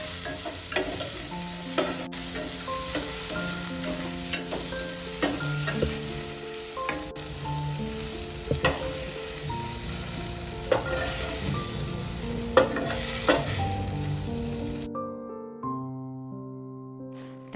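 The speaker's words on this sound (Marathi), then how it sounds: "भेंडी 2 मिनिटं परतून घेतल्यानंतर त्यात चवीपुरतं मीठ घालून ती पुन्हा 2 मिनिटं रंग बदलेपर्यंत परतून घेतली आहे" Okra fries in hot oil in a pan after salt is added, with a continuous sizzle and repeated scraping clicks of a spoon stirring it at a steady rhythm. The sizzle stops near the end, where faint background music carries on alone.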